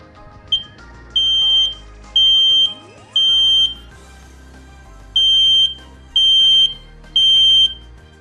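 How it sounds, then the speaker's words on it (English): A smoke alarm's test button is held, and it beeps in a repeating pattern of loud, sustained high-pitched tones, with a brief chirp first and short gaps between pulses. "It beeps to let you know that the smoke alarm has power."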